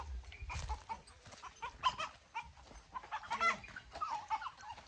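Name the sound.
chickens clucking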